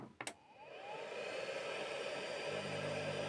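A steady airy whoosh and hum of a hot air rework station blower runs continuously after a couple of brief clicks, with a soldering iron also switched on and a faint low electrical drone underneath.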